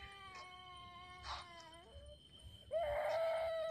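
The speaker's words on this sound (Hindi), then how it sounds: "वो ये देखो, रोने की आवाज आ रही है।" Wailing, crying-like sound in a forest at night, with wavering pitched cries rising and falling in a few bursts, the last one louder and sustained, heard alone over faint background noise.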